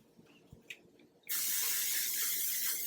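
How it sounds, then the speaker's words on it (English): Hairspray sprayed onto curled hair from an aerosol can, a sudden loud continuous hiss that starts after a second of quiet handling noises and holds steadily to the end. "And then spray it one more time."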